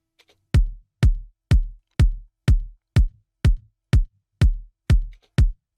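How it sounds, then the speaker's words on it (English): Ten evenly spaced electronic kick drum hits with deep, booming low-end tails, punchy and isolated against silence in a steady rhythm. "this is just providing a bit of extra sub or tail to the kick"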